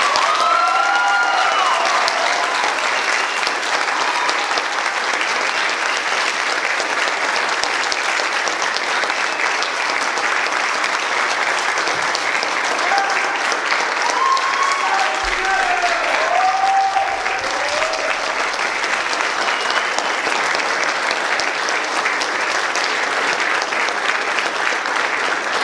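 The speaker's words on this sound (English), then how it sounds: "let's give them one more round of applause" A full audience gives a long, steady round of applause at a senior thesis event, dense clapping holding at an even level for over twenty seconds with light cheering mixed in.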